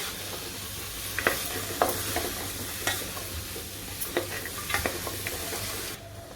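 Chopped vegetables and masala being stirred and fried together in a pressure cooker for Mumbai pav bhaji: a steady sizzle with a low hum beneath, broken by repeated sharp scrapes and clinks of the spoon against the pot.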